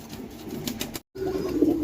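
Black Danish pigeons at a pigeon market give close, soft cooing calls, cut briefly by a moment of silence before the cooing resumes.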